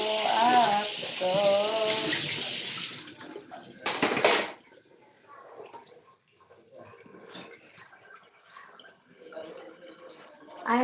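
Dishes being washed at a sink with water running, clattering and splashing at moderate level at the start, then quieter scattered kitchen sounds; a voice speaks over part of it.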